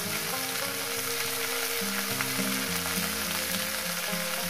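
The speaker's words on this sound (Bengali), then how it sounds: "সবজিটাকে আমি 6-7 মিনিট ধরে ভেজে নেব" Vegetables frying in a pan as the base for a mrigal fish curry, a dense continuous sizzle close up with occasional stirring, no voices.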